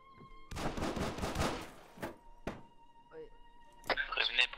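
Gunfire in the Arma 3 video game, several sharp gunshots cracking out amid loud, overlapping talk, with a busier burst of action near the end.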